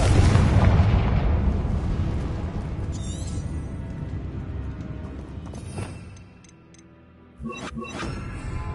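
A Confringo blasting spell goes off in a Harry Potter video game, a loud booming blast with rumbling debris that fades, a short lull, then sharp cracks and crumbling noises near the end.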